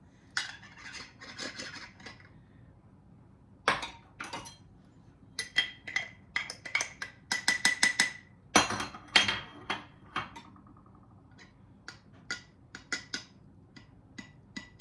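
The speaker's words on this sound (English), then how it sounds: "let me break this up a little bit" Clinking and scraping of a utensil breaking up clumped cocoa powder in a jar while baking Christmas cookies, a quiet run of irregular taps and clicks, sparse at first, then denser bursts of rapid knocks.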